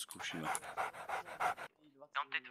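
A police K-9 service dog pants in quick, rhythmic bursts close to the microphone, followed by a brief whimpering breath, while someone speaks in the middle of it.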